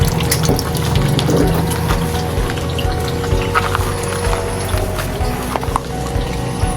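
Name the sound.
water running from tap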